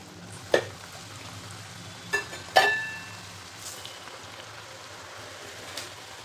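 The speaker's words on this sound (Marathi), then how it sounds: "तर अशी मस्त काटेरी चकल्या अशा तळून घ्यायच्यात आपल्याला" Chakli, spiral rice-flour snacks, deep-frying in hot oil give a soft steady sizzle and bubbling, close and fairly quiet, with a few clinks of a utensil against the pan.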